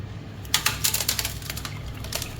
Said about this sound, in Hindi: आवाज़ जो है वो शुगर की ही है, कैरमलाइज होने की है